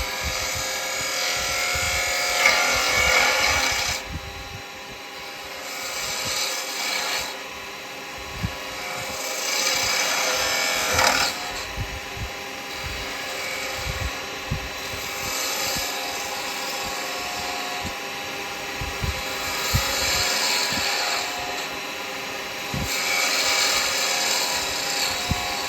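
A carbide woodturning tool scraping wood on a spinning lathe while turning Christmas decorations, giving a continuous whirring hum with repeated louder rasping scrape passes and small ticks, close and steady throughout.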